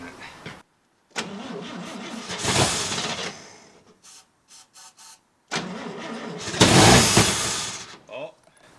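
Engine of a 1966 International 1200A pickup on a weak battery, cranking and catching in two loud bursts separated by a quieter gap with a few short mechanical clicks, the second attempt roaring up before fading.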